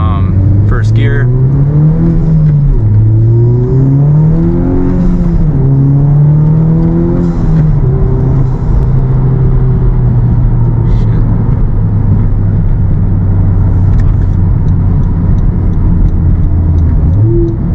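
A Honda car with Hondata tuning pulls away in first gear, its engine climbing steadily in pitch as it accelerates, loud and close from inside the cabin, with a voice speaking over the engine.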